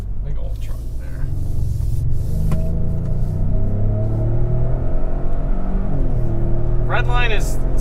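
A 2020 Lincoln Navigator Black Label in Excite mode revs up, a loud, steady engine rumble rising in pitch with short gear-change dips, heard from inside the cabin with talk over it.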